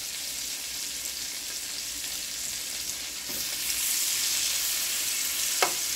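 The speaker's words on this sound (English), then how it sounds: "So I'm gonna go ahead and add in my shrimp into my pan." Shrimp frying in butter in a skillet with a steady, continuous sizzle throughout, swelling slightly louder partway in, with a brief sharp clink near the end.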